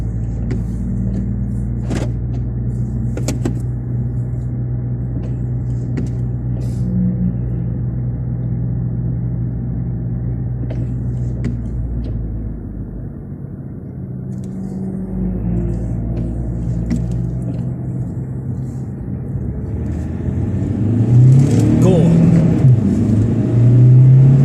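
Standard Vauxhall Vectra C 1.9 CDTi 16v diesel with the back seats removed, lapping a wet Croft circuit: a steady, loud in-cabin engine drone with road rumble, easing off mid-lap and then swelling into a harder, rising rev near the end, with no talk.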